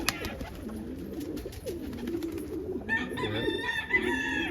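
Soft cooing from an almond pigeon hen with low murmuring coos, joined near the end by brighter chirping birdsong over a steady outdoor background.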